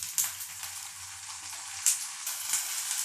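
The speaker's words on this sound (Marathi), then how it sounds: "आलूला असं परतून घेऊ दोन मिनिटासाठी" Potatoes sautéing in oil in a kadhai, a bright steady sizzle with a few louder crackling spikes as they are stirred, close and continuous with no talking.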